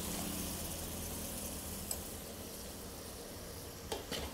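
Ground tomato juice fries in oil, making a soft, even sizzle that holds steady throughout, with a couple of faint utensil clicks near the end and no voices.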